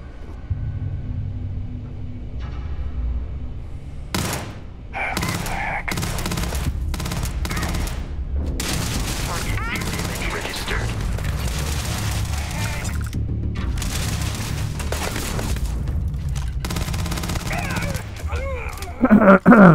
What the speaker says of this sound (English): So our man there was doing a bit of shooting as well, helping us out.